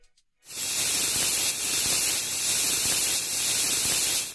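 A pressure cooker on a stove, cooking spinach dal, releases steam in a sustained loud hiss that starts abruptly after a brief silence and holds steady to the end, with no speech.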